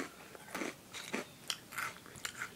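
Crunchy potato-flavoured snack being bitten and chewed up close, a run of five or six crisp crunches spaced roughly half a second apart, fairly quiet with no talking.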